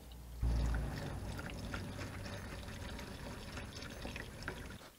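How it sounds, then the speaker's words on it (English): Engine oil draining from a Jeep JK with the 3.6 engine into a drain pan starts with a sudden splash, then settles into a steady, soft pouring trickle that runs on quietly. "And just let that drain."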